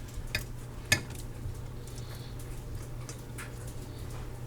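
Cooked shrimp lifted out of a pan, with faint utensil scrapes and a couple of light clinks over a low, steady background hum.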